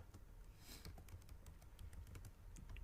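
Fingers type steadily on a computer keyboard, a quick even run of light key clicks, close but very quiet, with no one speaking.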